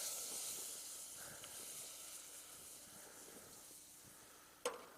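Butter sizzles in a hot pan with a soft, steady hiss throughout and a brief clink just before the end.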